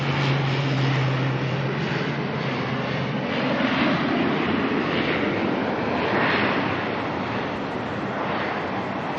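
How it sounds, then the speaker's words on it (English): An ATR turboprop airliner arriving at Auckland Airport from Palmerston North gives off a continuous, fairly distant engine drone that swells and holds steady, with no voices over it. "ATR here, coming on in from Palmerston North."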